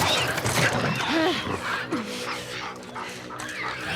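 A dog in The Last of Us Part II gives a few whimpering yips and short barks up close, mixed with game ambience and background voices.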